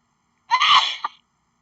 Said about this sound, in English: I think someone sneezed.